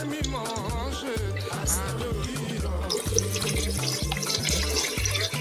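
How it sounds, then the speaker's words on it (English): Hot water pours into a pot of pounded yam dough in a kitchen, a steady splashing stream that runs continuously and close for several seconds over a faint tonal background. "We'll add the extra hot water."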